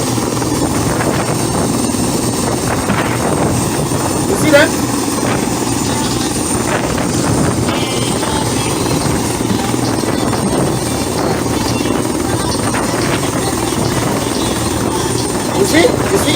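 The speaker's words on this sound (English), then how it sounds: "Nigerian Air Force helicopter." A Nigerian Air Force helicopter flying overhead gives a loud, steady rotor drone that fills the whole stretch, while someone talks excitedly close by.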